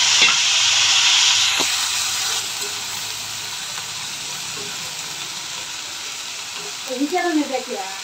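Steady broadband sizzling of cabbage frying in a hot pan, loud at first then settling, with a few soft clinks and faint voices near the end.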